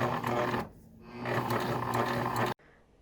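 A sewing machine runs in fast bursts stitching a knit hem, close and loud, pausing briefly before running again and then stopping abruptly.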